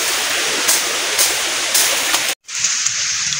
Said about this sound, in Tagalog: Yung sapa na yan. Ilog.